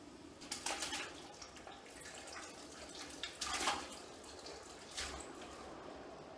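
Vegetables for bread and butter pickles are poured into a pot of boiling pickling liquid in a few splashy bursts over a steady bubbling, boiling hiss, with no voices.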